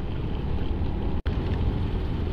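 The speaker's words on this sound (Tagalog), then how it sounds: "Grabe, malakas na tong ulan na to." Heavy rain and wind roar steadily around a motorcycle rider on a foggy mountain road on Marilaque toward Infanta, Quezon. The noise is loud and continuous, with one brief dropout midway.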